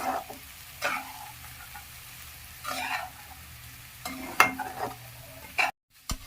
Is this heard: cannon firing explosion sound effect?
no